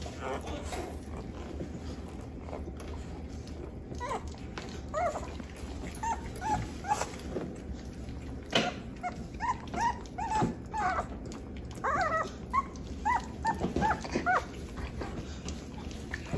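Soft, high whimpers and yips from puppies come in scattered bursts over a low background hum.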